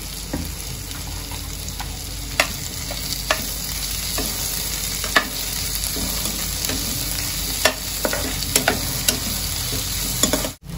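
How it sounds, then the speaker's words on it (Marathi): Tomatoes and dried bombil fish sautéing in a pan, a steady loud sizzle with repeated scraping stirs of a spoon throughout, no voices. "या सर्वांना मी कमीत कमी 5 मिनिटांपर्यंत चांगलं परतून घेतलं आहे।"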